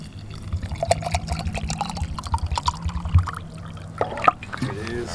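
Water pours into a Lithuanian military MRE ration pouch outdoors, a steady close trickle and gurgle lasting several seconds, with someone talking at times over it.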